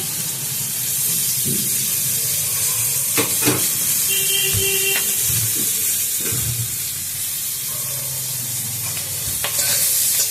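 Spice paste frying and being stirred in fish oil in a pan while cooking cabbage ghonto, a steady close sizzle and hiss broken by scraping stir strokes, with no one speaking.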